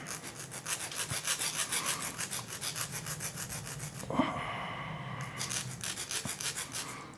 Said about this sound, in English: I'm going to use the rough file.